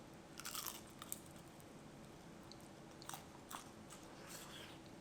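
Crunchy bites into an air-fried rice paper wrapper roll, a few crisp crackling bursts near the mic separated by quiet pauses of chewing.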